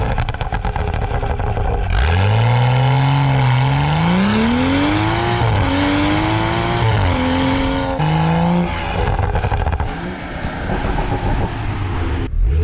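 A BMW M135i with a full exhaust accelerating hard through several gears, engine pitch climbing and dropping with each shift, then crackling exhaust pops as the revs fall, loud and close with no talking.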